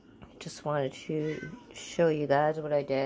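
A pet cat meows several times up close in a kitchen while vegan food is being made, its drawn-out calls alternating with and overlapping a person talking nearby.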